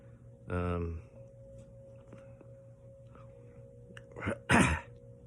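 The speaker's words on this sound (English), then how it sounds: "Causing me to clear my throat a lot." A short throat-clearing burst near the start, then two sharper rough bursts close together toward the end, over a steady low hum.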